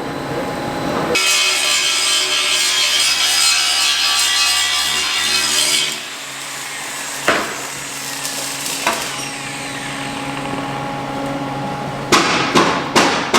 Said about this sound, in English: Now we're just going to shape it with the grinder.